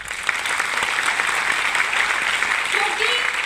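Audience clapping at a motivational event, a steady wash of applause throughout with a voice speaking over it.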